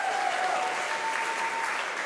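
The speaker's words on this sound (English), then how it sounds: "So round of applause for that." Audience applause at a school choir recital, a steady, moderately faint wash of clapping from the crowd with no voices over it.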